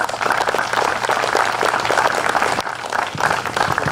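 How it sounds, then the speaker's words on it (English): Audience applause at a graduation ceremony, sustained clapping that fills the hall evenly, dips briefly, then swells again, loud and close. "everybody give yourself an applause for what you have done"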